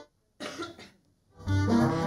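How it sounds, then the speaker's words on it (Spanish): A man coughs on a live talk show. One harsh, close cough comes first, and after a short pause a longer, rougher cough or throat clearing follows. "En un ratito voy a toser un segundo"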